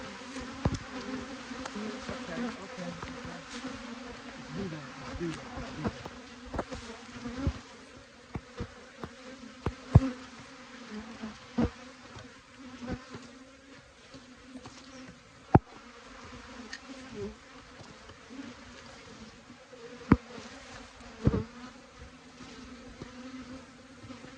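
Angry honey bees swarm and buzz steadily close around a beekeeper during a spring hive inspection, a dense continuous drone with sharp knocks and clicks of the hive popping through at intervals.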